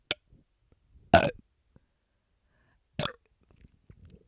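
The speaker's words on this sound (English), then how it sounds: "good burps" Two loud, close burps ring out after drinking bubbly seltzer water, the first longer and rougher, the second shorter a couple of seconds later, with near silence around them.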